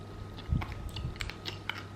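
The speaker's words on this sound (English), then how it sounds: "I want you guys to hear this crunch real quick." Crunchy homemade fried food is bitten and chewed close to the mic, giving a couple of crisp bites followed by quieter crackling chews, with no talking.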